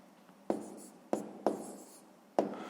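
Pen strokes on paper while numbers are written out in a sixth-grade math exercise: four sharp, close taps or short scratches spaced about a second apart, each fading quickly, in an otherwise quiet room.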